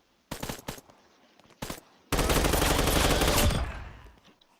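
Automatic rifle fire in a Roblox video game: two short bursts, then a long sustained rattling burst that fades out, loud and close.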